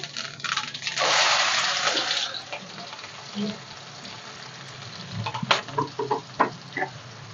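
Sliced onion and fennel seeds dropped into hot oil for a tempering: a loud burst of sizzling that settles into softer crackle, then scattered sharp pops and clatters from stirring.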